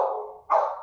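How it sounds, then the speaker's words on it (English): A dog barks twice close by, a drawn-out bark followed after a brief gap by a louder, sharper one. "Oh, his dogs are so annoying."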